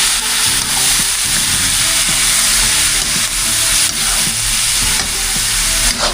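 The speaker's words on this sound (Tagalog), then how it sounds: "Gisa-gisa lang po natin ito" Pork innards sautéed in oil in a frying pan give a loud, steady, close sizzle, with scraping and clinking from stirring running throughout.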